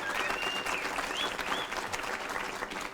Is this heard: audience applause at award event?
yes